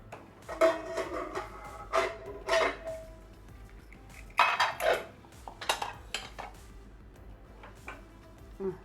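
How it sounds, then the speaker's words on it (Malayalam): Metal clanks and rattles as a cooled, depressurised pressure cooker lid of cooked rice is worked open, several sharp knocks spaced out with quiet gaps between. "കുക്കറിൻ്റെ പ്രഷറൊക്കെ പോയി കുക്കർ തണുത്തിട്ടുണ്ട്. ഇനി നമുക്കൊന്ന് തുറന്നു നോക്കാം."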